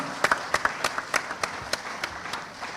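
A small audience at a financial literacy quiz claps for the contestants, sparse, distinct claps scattered unevenly across a few seconds, fairly quiet and thinning out toward the end.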